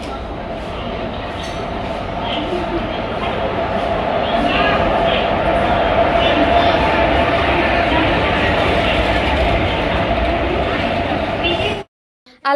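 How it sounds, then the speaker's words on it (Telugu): A train rumbles steadily into a station, loud and continuous, with clinks and crowd murmur around it before the noise cuts off abruptly near the end. "చూస్తూ ఉండగానే మాకు ట్రైన్ అయితే వచ్చేసిందండి"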